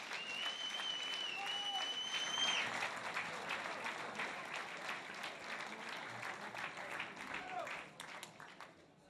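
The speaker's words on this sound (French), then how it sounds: "On applaudit s'il vous plaît les boxeurs pour ce très beau match." After a boxing match, the audience applauds the boxers with sustained clapping that slowly fades, while whistles ring out early and voices murmur underneath.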